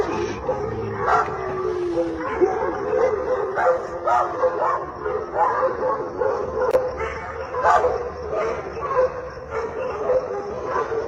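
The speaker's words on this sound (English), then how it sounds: "he heard the dogs in the area barking and howling incessantly" Several dogs in a neighbourhood bark, yip and howl at night, a continuous, overlapping chorus at moderate distance with whimpering tones.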